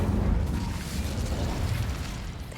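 An Incendio fire spell cast in the video game Hogwarts Legacy, heard as a steady, loud, rumbling whoosh of flame that fills the whole moment without any break.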